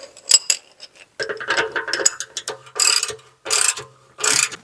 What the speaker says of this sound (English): now we can tighten it up the rest of the way